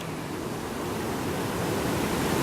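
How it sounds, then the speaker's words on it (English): Constant broadband roar of Tunnel Brook rushing under a bridge, heard up close as a steady whoosh that swells slightly, with nobody talking. "there is a lot of power in that water right there"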